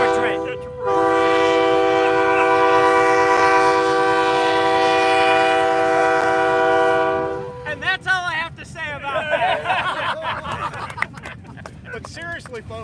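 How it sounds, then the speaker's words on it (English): A short train passes close by on the railway beside Oak Hill at the Gettysburg battlefield, its horn sounding a long sustained blast for several seconds, then fading into rumbling wheels and clatter as people talk nearby. "Seriously, folks, you see the train behind you."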